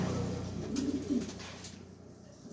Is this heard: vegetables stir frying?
no